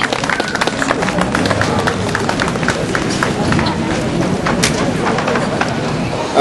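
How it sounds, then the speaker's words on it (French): Crowd applause for boxers at a boxing event, dense clapping with whoops and cheers from a lively audience, while a voice speaks over the noise. "On peut les applaudir"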